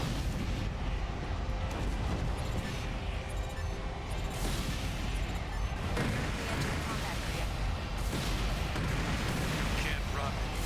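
Missile blasts and dense combat rumble fill a mech battle in Armored Core 4, a loud continuous wall of explosions and booms with a voice talking over it.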